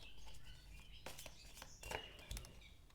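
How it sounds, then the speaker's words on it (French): Birds chirp outdoors in faint, scattered calls over a low, noisy background, with a few soft taps and rustles. "Vous entendez les oiseaux?"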